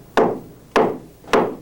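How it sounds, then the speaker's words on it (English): A small hammer taps three times at an even, unhurried pace, each a sharp close strike that quickly fades. "You guys got a hammer, huh? This is a small hammer."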